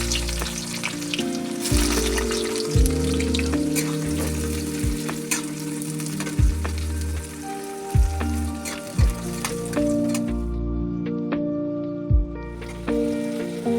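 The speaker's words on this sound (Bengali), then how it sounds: "এবারে কুচিয়ে রাখা পেঁয়াজটা দিয়ে দেবো।" Chopped onions tossed into hot oil with dried red chilli and cumin seeds, a loud, dense sizzle close by, broken by regular clanks of a spatula stirring against the pan, with no voice.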